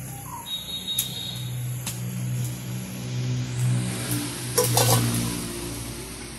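Onion fritters (peyaji) made with gram flour sizzle steadily in hot oil in a Bangladeshi village, with occasional metallic clinks of stirring and a low engine rumble in the background.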